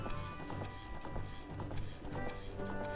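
Epona, the horse in Ocarina of Time, gallops in quick, even hoofbeats that clip-clop steadily at a fairly quiet level under soft game background sound.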